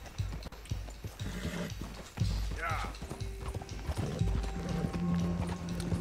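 Steady clip-clop hoofbeats of a trotting horse in the video game Red Dead Redemption 2 run throughout, with a brief whinny, while someone talks excitedly over them.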